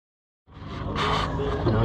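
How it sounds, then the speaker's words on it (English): An original diesel boat engine starts up and settles into a steady low rumbling idle, loud and close, after a moment of silence. "If you want to hear this diesel purr"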